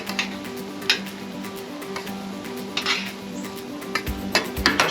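A metal spatula scrapes and taps across a Blackstone griddle, stirring seasoned rice in quick irregular clinks and clicks over a faint low hum, with no talking.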